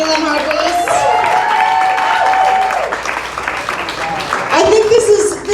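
A comedy club crowd keeps clapping for comedian Hailee Lenhart-Wees as a host talks over the applause, which stays steady and then swells again near the end.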